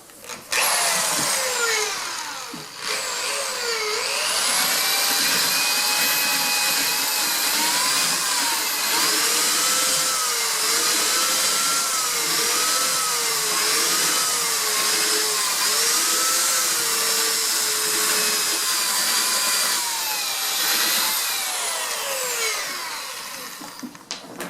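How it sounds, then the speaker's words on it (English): A power drill whines loudly and continuously, its pitch wavering up and down as it sands and shapes foam rubber for a motorcycle saddle seat, running for over twenty seconds. "Now as you can see, I use a drill motor,"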